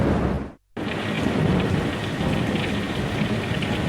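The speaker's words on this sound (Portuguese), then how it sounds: "A chuva caía pesada no Cabo Canaveral." Heavy rain pours down at Cape Canaveral in a dense, constant hiss, with thunder rumbling under it. A brief silent dropout comes early, then the downpour returns just as loud.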